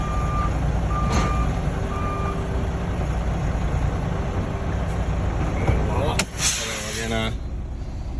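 A truck with an air-suspension trailer backs up gently, its reversing alarm beeping in a regular repeating pattern over a steady engine rumble, with a sharp burst of air release near the end.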